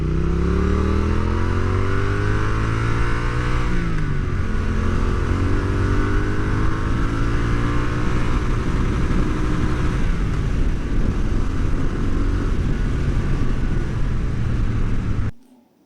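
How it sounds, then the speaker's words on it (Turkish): A Triumph Bonneville Speed Twin 900 motorcycle engine runs close by and is revved, its steady throbbing idle rising and falling through several throttle blips before cutting off abruptly at the end. "Hadi biraz gaz açalım."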